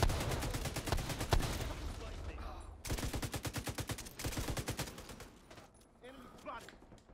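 Rapid bursts of automatic gunfire in The Division 2, loud and close, with a long rattling volley, a pause, then another sustained string of shots fading into quieter sounds.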